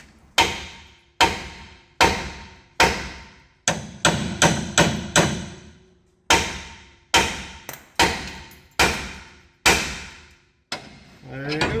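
Heavy hammer whacks land on a suspension part of a 2008 Ram 1500 during a lift install: about fifteen loud, ringing metal strikes, mostly evenly spaced, with a quick burst of blows in the middle.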